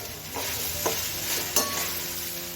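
Vegetables frying in a pan for a vegetable sambar made without lentils, giving a close, continuous sizzle broken by a couple of quick stirring scrapes.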